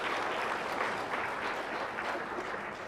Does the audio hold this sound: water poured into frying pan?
no